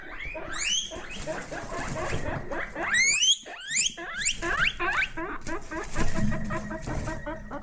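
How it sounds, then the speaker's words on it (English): Guinea pig squeaks, loud and repeated: a rapid series of high, rising-and-falling whistling squeals in several bursts, close and prominent, with faint chirping calls in between. "That's a guinea pig."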